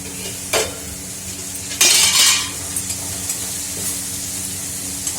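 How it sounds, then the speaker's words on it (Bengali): Spices sizzle steadily in a hot pan, with a few sharp scraping stirs of a spoon punctuating the continuous frying hiss. "এই যে একটু ভাজা ভাজা বেশ করছে, ভালো লাগছে।"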